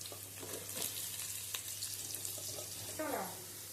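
Sliced carrots sizzle in hot oil in a pan for carrot fried rice. The frying stays soft and steady, with a brief louder burst of crackling near the end.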